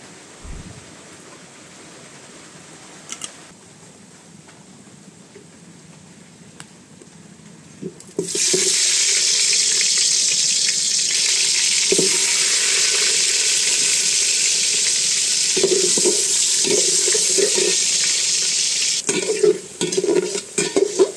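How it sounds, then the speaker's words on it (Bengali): Potatoes frying in hot oil in a cooking pot, a loud steady sizzle that starts abruptly after a quieter stretch and holds for a long while, with occasional stirring clanks and scrapes. "প্রথমে আলুটা ভেজে নিব।"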